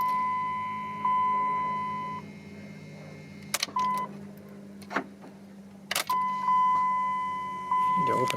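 An electric fuel pump on a 2005 Dodge Ram 3500 Cummins diesel priming an empty fuel filter canister gives a steady electronic beeping tone, paired with a dash chime in the cab, broken by a few sharp clicks and thumps in between.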